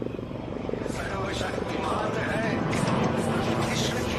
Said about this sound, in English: the light combat helicopter prochhand